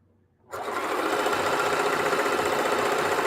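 A sewing machine runs fast on a straight stitch with zero stitch width, piecing jelly roll placemats; the motor whirs in a loud, steady, even drone after a brief quiet start, with no talking.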